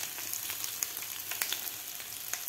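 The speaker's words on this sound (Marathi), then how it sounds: "तर बटाटा सुद्धा आपल्याला ह्या तुपामध्ये व्यवस्थित परतून घ्यायचा आहे 3 ते 4 मिनिट।" Potato pieces frying in ghee, a fairly quiet, even crackling sizzle with scattered tiny pops throughout.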